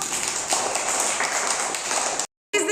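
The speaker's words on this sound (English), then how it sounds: "Clap for Hamna." Young nursery-school children clapping together for a classmate, a dense patter of small hands in a classroom, fairly loud and continuous, then cut off abruptly near the end.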